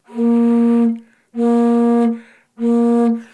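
Three sustained notes from a notched pipe of a small positive organ, each about a second long with brief gaps, bright and reedy with strong harmonics, flat rather than soft in tone.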